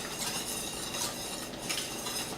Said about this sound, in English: So we'll check on those grits and keep stirring.